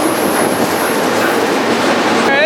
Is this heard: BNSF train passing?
yes